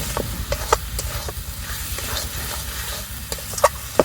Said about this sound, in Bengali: আলুর সঙ্গে মশলা খুব ভালোভাবে কষা হয়ে গেছে